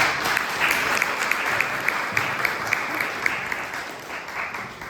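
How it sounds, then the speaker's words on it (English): A round of applause at a health talk event, steady crowd clapping that holds as a dense wash with scattered sharper claps near the front, fading slightly toward the end. "One more time, a round of applause for her."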